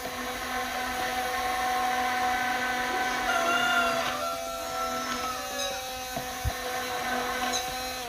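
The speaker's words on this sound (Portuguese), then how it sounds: "o inhame vai ter que se soltar todinho, porque ele está sendo batido cru" A blender whirs steadily as it purées raw yam, a continuous high mechanical whine with slight shifts in pitch as the chunks break down, loud and close with no talking.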